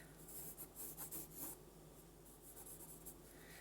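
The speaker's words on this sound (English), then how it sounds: "quick little pencil strokes, we are going to shape our leaf." Quick, rapid pencil strokes scratch across paper while a leaf is sketched, a close, soft raspy scribbling in short bursts that eases into steadier light shading, quiet throughout with no voices.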